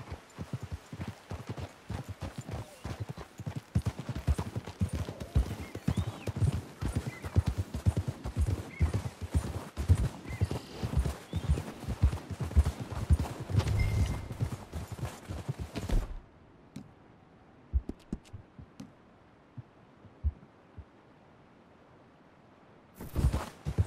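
Horses clip-clop steadily along in the video game Red Dead Redemption 2, a dense run of hoof beats that stops abruptly, leaving a few scattered steps and quiet.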